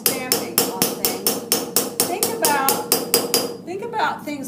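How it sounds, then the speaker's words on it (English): Metal hammering and stamping for embossing: a steady run of about a dozen loud, sharp, ringing strikes at an even rhythm, close by, thinning out near the end. "When you are hammering and stamping on things,"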